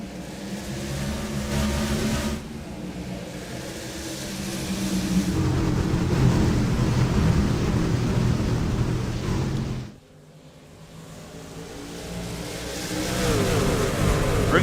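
Race trucks in a racing video game roaring at the green flag at Richmond, a loud sustained engine drone with a brief drop before the revs build again.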